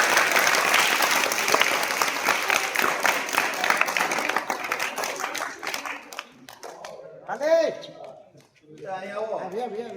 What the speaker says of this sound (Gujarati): એના માટે એકવાર જોરદાર તાળી પાડી